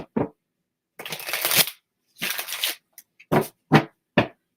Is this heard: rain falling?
no